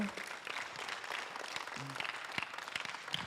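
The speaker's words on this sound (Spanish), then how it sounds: "Give a big applause to the Lord." Steady applause from a crowd at a church service, a dense wash of clapping filling the room with a few sharper claps standing out, no voices on top.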